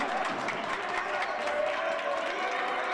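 Basketball crowd in the Collins Arena during a Brookdale vs Sussex CC men's college game, a steady wash of applause and crowd noise at a middling distance, with no distinct voices on top.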